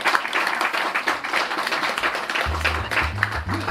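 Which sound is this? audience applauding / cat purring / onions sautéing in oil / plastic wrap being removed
audience applauding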